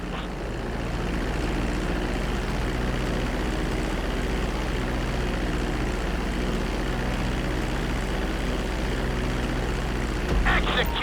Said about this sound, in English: reducing the plane's altitude gradually so you're just above the runway as you approach